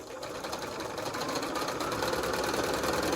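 A sewing machine runs continuously as it stitches quilt pieces for a flower patch block, a steady close mechanical whir with a fast regular needle rhythm and no talk.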